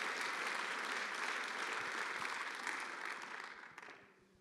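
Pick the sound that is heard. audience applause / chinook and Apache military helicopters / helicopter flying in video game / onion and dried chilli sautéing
audience applause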